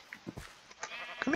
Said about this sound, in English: What is that? A baby sheep?